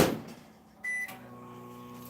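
Microwave oven running while ingredients melt in a hot bowl: a door thump and beep, then a steady low hum that continues, close and moderately quiet.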